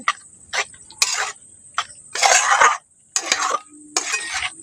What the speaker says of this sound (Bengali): এগুলো দিয়ে ভালো করে একটু মিশিয়ে নিচ্ছি